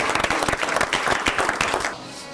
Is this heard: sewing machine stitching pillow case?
no